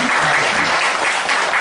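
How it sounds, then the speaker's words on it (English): Audience at a product demonstration seminar clapping loudly and continuously, a dense, close burst of applause that fills the room without pause. "A round of applause for our honors report."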